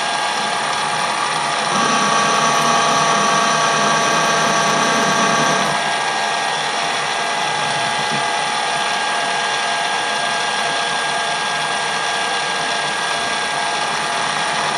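A metal lathe screw-cutting a deep thread for a wood lathe chuck adapter, the top slide set at 30 degrees: a steady loud mechanical whir and cutting hum with a bright tonal whine in the first few seconds, continuous throughout with no talking.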